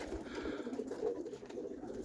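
Roller pigeons coo in their loft on an icy, sleety day, a soft, continuous murmur of overlapping coos at close range.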